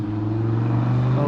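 A Lamborghini supercar passes through a residential neighborhood with a deep steady engine rumble, loud and fairly close, sustained through the short moment.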